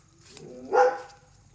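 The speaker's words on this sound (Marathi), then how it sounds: "सुरक्षेसाठी हे डॉग इथे आणलेलं" A single dog bark rings out at moderate distance, briefly rising above a quiet background.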